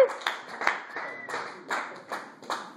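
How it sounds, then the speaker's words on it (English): A small open-mic audience in a bar gives sparse, scattered clapping for the host, only a few distinct claps at a time in an uneven rhythm, fairly quiet with little other noise. "Let's give a round of applause, I guess, for the host."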